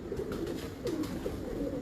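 A pair of pigeons coo steadily in soft, repeated throaty phrases up close, with no talk over them.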